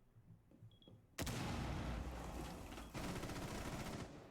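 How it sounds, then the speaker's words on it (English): Gunfire in the video game Rainbow Six Siege during a collegiate match: after a quiet start, a sudden loud burst of rapid automatic shots, a brief lull, then a second sustained volley, up close. "We are hearing some gunfire"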